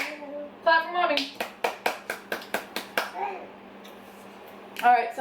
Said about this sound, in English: Clap for mommy.